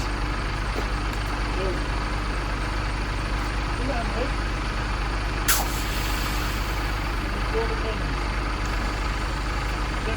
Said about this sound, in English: We're going to put the handbrakes on the trailer and withdraw the pins.